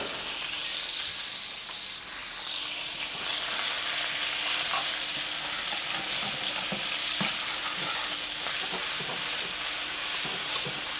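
Steak sizzles loudly in a pan while basted with butter and garlic, a continuous dense frying hiss with spoon scrapes and spatters growing stronger after a softer start.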